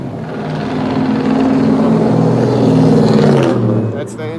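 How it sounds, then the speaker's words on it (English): A white truck's engine runs loud and close, a sustained rising and falling drone for several seconds that fades off near the end. "That's the engine sound."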